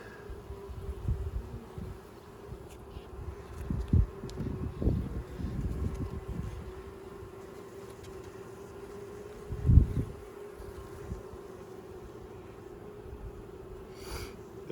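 Honey bees from a swarm colony hum softly during a hive inspection, a low steady buzz with a few brief closer swells from bees passing near.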